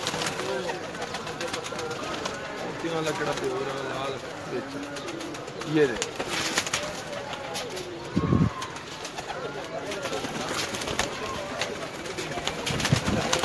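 Pigeons, a golden one among them, cooing at a loft in Gujranwala, soft repeated calls under someone talking nearby, with a couple of brief bumps.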